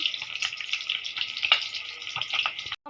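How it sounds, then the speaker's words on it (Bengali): An egg frying in a pan gives a close, crackling sizzle with popping spatters, and a brief clatter cuts in near the end. "এখান দিয়ে একটা ডিম দিয়ে দিছে ভাজার জন্য"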